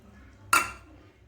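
Washed toor dal for arhar dal poured from a small bowl into a pressure cooker, giving one short clattering rush of grains against metal amid quiet kitchen background.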